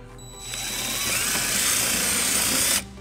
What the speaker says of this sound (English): we're gonna go ahead and drill our first hole using a 3 16th